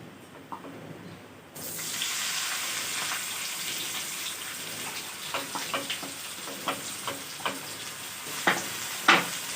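Onions and green chillies land in hot oil and fry with a loud, continuous sizzle, while a utensil scrapes and taps the pan in a loose rhythm.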